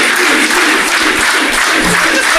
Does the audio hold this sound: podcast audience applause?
yes